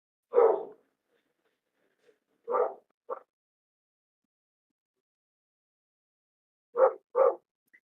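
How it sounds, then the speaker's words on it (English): A dog barking indoors, sharp isolated woofs in small bursts: one bark, a pair a couple of seconds later, then a quick double bark after a long silence. "I'm sorry about the dog."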